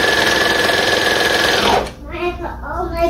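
A serger sewing machine stitches a band onto a tube top with a loud, rapid, steady mechanical hum that stops abruptly partway through, followed by a person talking.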